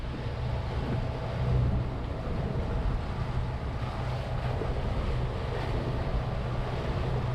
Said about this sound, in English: the water is absolutely tearing between the islands